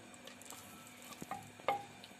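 Masala-stuffed eggplant frying gently in a pan, a faint quiet sizzle with a few soft spoon taps and clinks, no voices.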